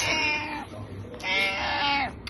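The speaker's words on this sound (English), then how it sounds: "Bailey, you know where the kitty cat is?" Cat meowing indoors near a chair: two drawn-out, wavering meows close to the listener, separated by a brief pause, with no talk over them.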